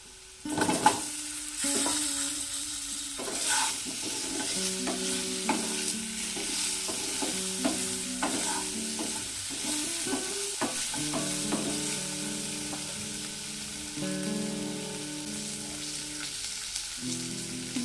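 Cut raw plantains fry with potatoes in hot oil, a soft steady sizzle under repeated scraping and clinking strokes of a spatula against the pan, no voices.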